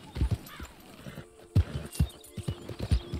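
Horse hooves clip-clopping in the Red Dead Redemption 2 video game, irregular clusters of hoof strikes with brief pauses, moderately close over a quiet background.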